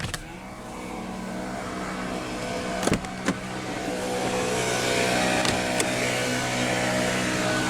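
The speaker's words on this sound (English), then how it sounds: "now we'll roll down the driver's window" The power window of a 2019 Lexus NX 300 F Sport lowers with a steady electric motor whine and hum over a quiet idle, marked by a few sharp clicks and thumps near the middle. No one speaks.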